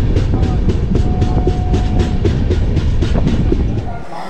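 Shaktipunj Express passenger train running into Jabalpur station, a loud steady rumble with rhythmic wheel clatter and a brief squeal, easing off at the very end.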